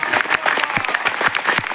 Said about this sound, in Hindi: आज तो सर तालियां इतनी बजानी है हम सभी को कि आपके हाथ लाल हो जाने चाहिए